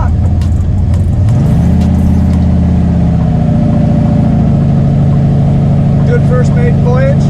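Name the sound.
Chevrolet Malibu car engine with Powerglide transmission driving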